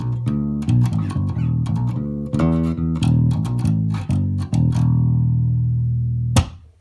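Dry Yamaha RBX375 five-string bass guitar with active pickups, played straight with no amp coloring: a fast run of punchy, deep plucked notes, loud and close, ending on a long sustained low note.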